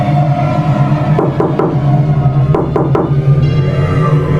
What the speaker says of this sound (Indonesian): aku terbangun oleh suara ketukan